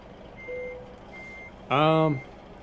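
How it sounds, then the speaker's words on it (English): A truck's backup beeper in American Truck Simulator sounds one loud, close burst of harmonic beeping lasting about a third of a second. Faint tonal game sounds come before it, and no one speaks. "we've had enough of that backup beeper"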